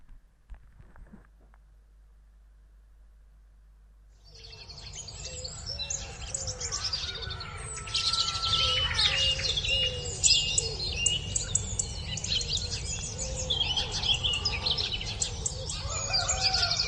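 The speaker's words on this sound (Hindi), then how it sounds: "पीछे चिड़िया की आवाज़ आ रही है" A morning background music track carries steady bird chirping and tweeting, beginning after about four seconds of near silence and continuing busily to the end.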